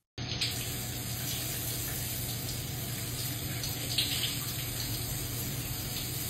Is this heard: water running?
yes